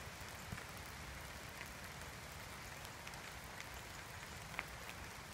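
Steady rain falls through a woodland canopy, a dense even hiss of drops with occasional louder single drips close by, with no voices.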